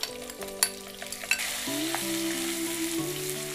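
Onion sliced into rings and green chili fry in a pan with a continuous close sizzle. Faint stirring clicks sound early on, and steady tonal sounds run beneath the sizzle.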